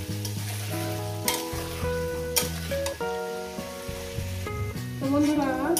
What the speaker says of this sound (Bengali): এবার কি করবো, আমি আলুগুলো আগে ভেজে নেব।